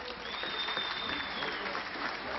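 Audience applause at a political party's candidate introduction rally fills the clip as a dense, steady clatter of many hands, sustained at an even level throughout.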